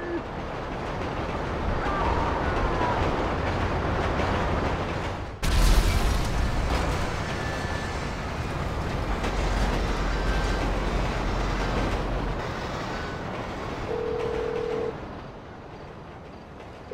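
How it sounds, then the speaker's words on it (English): A train rumbles steadily in a Grand Theft Auto V scene, broken by a sudden loud crash of impact, then continuing heavy rolling noise that fades and drops off toward the end. "Train accident."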